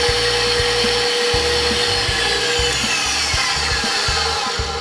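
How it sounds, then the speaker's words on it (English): Egg whites are whipped for a gluten-free lemon cake with a loud, continuous electric mixer whir. Its motor drones steadily throughout, with small shifts in pitch as the beaters move, and no one speaks. "So we're gonna start off by whipping our egg whites."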